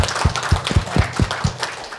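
Audience applause closing a workshop: a short run of steady, evenly spaced claps, moderately loud and close, with no talking.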